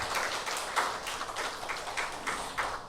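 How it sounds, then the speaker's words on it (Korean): Congregation at a Korean university church Sunday service applauding the choir, a steady close wash of many hands clapping throughout with slight swells, no talk over it. "우리 성가대원들에게 다시 한번 격려의 박수, 감사의 박수 하겠습니다"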